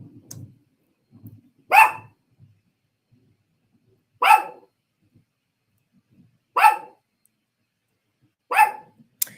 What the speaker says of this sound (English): You're not gonna be barking while it's thundering and raining.